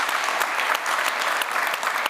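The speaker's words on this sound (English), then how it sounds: "Yes, a round of applause." An audience at an Edinburgh International Book Festival event held at Edinburgh College of Art gives a round of applause, steady dense clapping from a crowd that continues throughout.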